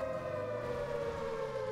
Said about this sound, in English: That siren is so loud.